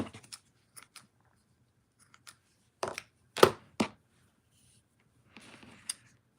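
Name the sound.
cutting with ribbon scissors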